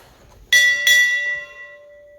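A ship's bell struck twice in quick succession at a naval retirement ceremony, bright and ringing, the second strike following closely and both tones fading slowly.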